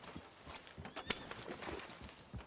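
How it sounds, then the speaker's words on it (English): A horse's hooves clip-clop in Red Dead Redemption 2, an irregular run of muffled hoofbeats under game ambience with faint background voice. "It's how you ride the horse."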